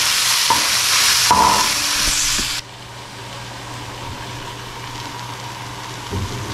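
Guar beans stir-frying in a pan with green chili and black pepper: a loud broadband sizzle with scraping stir strokes for the first few seconds, then a quieter steady frying hiss with an occasional utensil knock.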